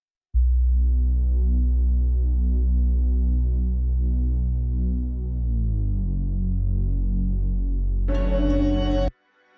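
A deep, sustained bass tone swells in as part of a film sound-design transition, throbbing and humming steadily for several seconds before a brighter, noisier layer joins briefly and everything cuts off.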